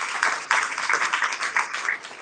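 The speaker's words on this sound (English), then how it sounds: "let's give a hand of applause for her" Audience clapping at a live political teach-in, a short burst of scattered hand claps with uneven rhythm, fairly close and clear, with no talking.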